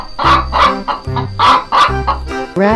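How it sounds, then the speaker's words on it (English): A cartoon chicken clucks in a run of repeated, throaty bursts, loud and close over a steady cartoon backing, finishing with a rising squawk. "Chicken."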